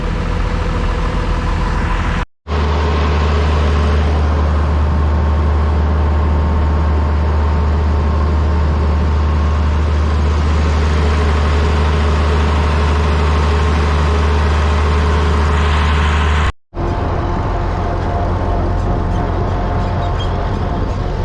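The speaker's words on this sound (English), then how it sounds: "there's a lot of tractors in this tractor drive" Tractors pulling out in a tractor drive at a steam threshers show, a loud continuous low engine drone with idling rumble, holding steady for long stretches, briefly cut off twice.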